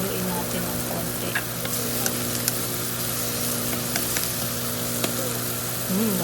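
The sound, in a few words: stirring corned beef frying in a pan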